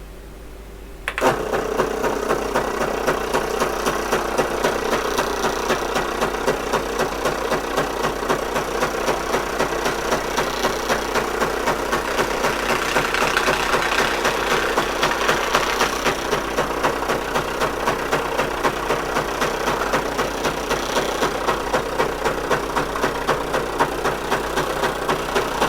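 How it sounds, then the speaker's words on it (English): An HP9866A printer runs a program listing, giving a steady, dense mechanical chatter with a fast regular rhythm that holds at an even loudness throughout, close by and with no voices. "it is printing very nicely"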